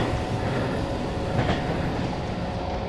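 Steady, loud rumble of a train slowing on snowy, low-grip rails in the railway game Running Train, with continuous wheel and rail noise and a faint brief squeal midway, no voices.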